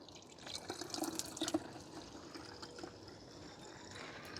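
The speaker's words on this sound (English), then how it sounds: "Top this up with water." Water tops up a bottle to dilute an engine bay trim restorer, a quiet, steady trickle and splash of filling liquid heard alone.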